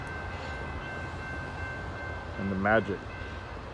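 A train passes at a distance while freeway traffic goes quiet near an evening garden, giving a steady rumble with a sustained horn-like tone and a brief swell near the end. A voice talks quietly over it.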